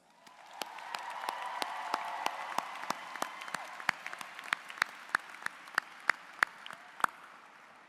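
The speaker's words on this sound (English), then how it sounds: "let's show them some love, appreciation, and admiration with a round of applause" Audience applause at a Georgia Gwinnett College spring commencement ceremony, a steady wash of clapping from a large crowd with sharp individual claps standing out, swelling briefly and then fading near the end.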